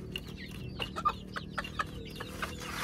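Hens and chicks on a farm cluck and peep close by, making short, scattered calls and chirps over a low steady background hum, with no talking.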